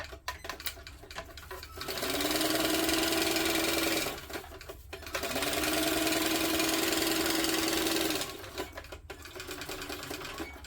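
A sewing machine top stitches across the bottom of a tote bag in two steady whirring runs of several seconds each, separated by a short pause, close and fairly loud.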